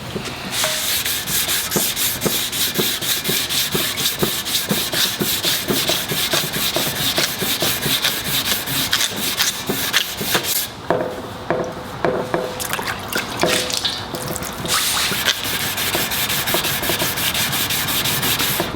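A sanding block is worked back and forth across automotive primer, making a steady, rhythmic, gritty rasp with a quick regular stroke. The sound is close and continuous throughout, with no talk.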